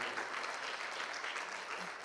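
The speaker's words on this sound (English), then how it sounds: "Let us give a good clap to Niket and his team" Steady audience applause fills a seminar hall at a youth gathering in Hyderabad, a dense, even patter of many hands clapping throughout with no break, moderately close.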